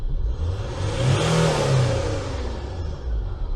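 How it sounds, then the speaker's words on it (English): A broken Citroen C6 revs on a dyno, the engine note rising and falling in one short swell over a few seconds, loud and close with no talking. "if I rev it,"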